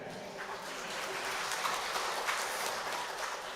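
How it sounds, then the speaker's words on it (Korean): A church congregation, children among them, claps in steady, dense applause during a Sunday worship service, filling the room evenly throughout. "예배 시간에 박수 받은 적은 처음인 것 같습니다"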